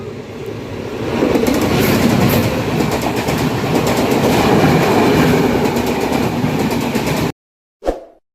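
A passenger train running between Raipur and Visakhapatnam rushes along at speed, a loud continuous roar with rapid clickety-clack from the wheels that swells and holds for several seconds, then cuts to near silence and one brief burst.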